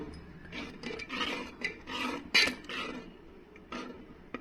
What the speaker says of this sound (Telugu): సో చక్కగా మొత్తం కలుపుకోవాలి మంచిగా